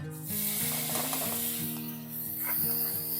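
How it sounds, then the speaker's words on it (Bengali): Peanuts and rice, with raisins, fry in a pan with a steady hiss and faint scraping of stirring, heard beneath sustained background music. "বাদাম আর চালটা ভালো করে ভেজে নেব"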